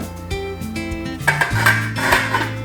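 Metal pot lids are set into a kitchen cabinet, making several close clanks and ringing clinks that overlap over a couple of seconds with no talking.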